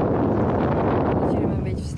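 Heavy wind buffeting a microphone on a beach in the Kei Islands, a loud continuous low rumble and roar that drowns out everything else.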